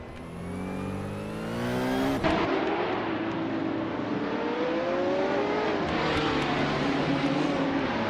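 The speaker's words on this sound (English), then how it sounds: "Yamchubi Panda is driving a 1968 Pontiac Firebird." A 1968 Pontiac Firebird in a racing video game revs hard, its engine pitch climbing through gears with a shift, then droning at high speed, loud and close with no talk.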